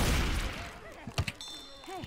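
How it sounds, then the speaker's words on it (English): Gunfire in Left 4 Dead opens with a loud burst that decays, followed by a few sharper scattered shots and faint game effects, with voices talking over part of it. "Why y'all start shooting?"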